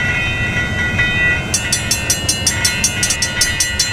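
Train passing a level crossing in the Trainz game, a steady low rumble with a rapid, evenly spaced high ringing of crossing bells starting partway through and continuing to the end.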